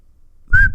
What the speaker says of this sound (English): give it a whistle